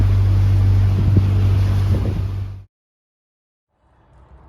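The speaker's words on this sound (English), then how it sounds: "Still really massively windy here, and it's really cold." Strong wind buffets the microphone with a loud low rumble for a few seconds, then cuts to silence before a faint rumble returns.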